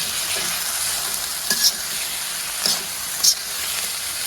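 Chicken and chopped carrot fry in a pan with a steady close sizzle, broken by a few sharp scraping stirs of a utensil against the pan.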